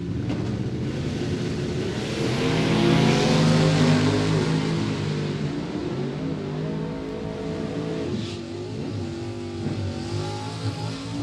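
Drag racing cars, a Maverick and a Camaro, launch side by side down the strip in a Super Pro event, loud engines roaring and revving hard as they accelerate away, sustained throughout.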